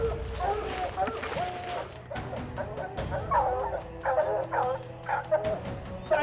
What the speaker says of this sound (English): Dogs are howling like crazy.